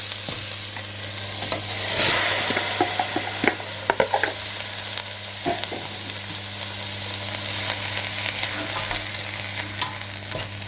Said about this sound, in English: And while that's getting browned off, we're going to add in the pineapple.